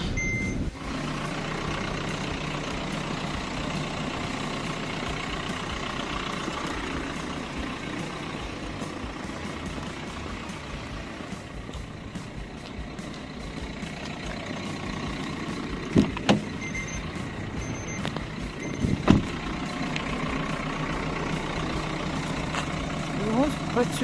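A used car's engine idles steadily with a low, even hum, while people talk nearby and a few faint clunks break in toward the end.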